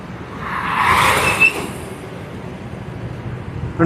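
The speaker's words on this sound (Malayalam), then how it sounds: "വലിയ വണ്ടിയൊക്കെ ഉണ്ട് ലോഡും വണ്ടിയൊക്കെ പോകുമ്പോൾ പാലം കുലുങ്ങുന്ന ഫീല്" A heavy loaded vehicle rumbles across a road bridge at the Thanneermukkam bund near Cherthala, Alappuzha, swelling to a loud broad roar within the first second and then easing into a steady traffic drone.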